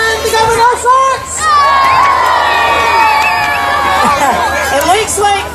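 A crowd cheers and whoops for the Glasgow Barons at the Mary Barbour statue unveiling. Overlapping shouts and high excited voices rise and fall steadily for several seconds, close and loud.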